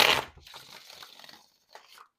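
Rider-Waite tarot cards give a single crisp riffling burst at the start, then a softer papery rustle and a brief final flutter, close up and alone.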